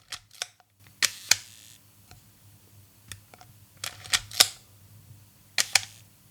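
Mechanical shutter clicks from a Leica M2 film camera, about ten sharp, close clicks at irregular intervals, some paired with faint winding or lever sounds, over a low steady background hum.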